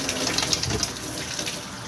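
Tap water runs steadily into a kitchen sink while steak is rinsed under it, a close, continuous splashing hiss with small irregular spatters.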